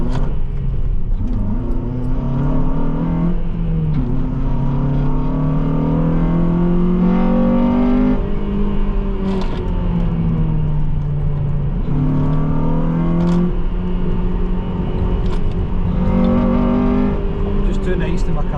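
A car driven hard around a race track on a first track day: a loud, continuous engine note rises and falls through repeated revs and gear changes, close and unbroken throughout.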